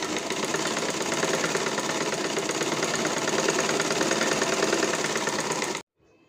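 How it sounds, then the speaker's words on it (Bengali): A sewing machine runs fast and steady while topstitching a bra, giving a loud, even, rapid mechanical chatter for about six seconds. It stops abruptly. "এখন উপর দিয়ে চাপ সেলাই দিয়ে নিচ্ছি।"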